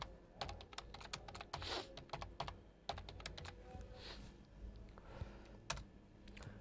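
Typing on a computer keyboard while writing CSS style code in a web design practical, with quick irregular key clicks in bursts, close and moderately loud, with no one talking.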